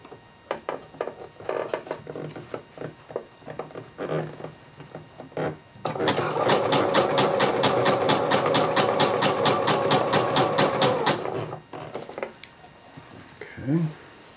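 Sewing machine stitching shorts: short irregular bursts of needle clatter, then a long steady fast run of rapid stitching close by, slowing into a few final stitches, with a brief voice near the start.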